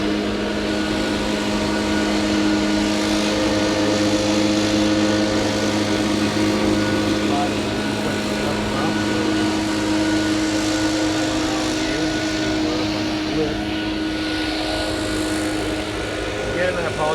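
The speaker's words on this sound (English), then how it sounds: "I didn't know they were going to be mowing today." A lawn mower drones steadily nearby for the whole stretch, a constant engine hum with broad noise that never lets up.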